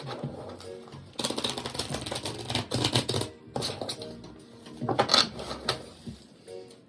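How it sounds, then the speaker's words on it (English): Quick riffling bursts, like a deck of cards being shuffled, repeat several times in close, crisp clatters with brief pauses between. "Give it a good shuffle."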